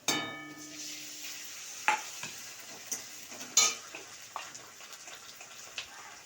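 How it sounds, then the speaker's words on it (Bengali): Onion frying with ginger, garlic and green chili paste gives a faint, quiet sizzle. Spaced clinks and scrapes of a spatula stirring in the pan sound at irregular intervals. "এবার আদা রসুন কাঁচা লঙ্কা বাটা, সাথে একটু গুঁড়ো লঙ্কাও দিয়ে দিয়েছি।"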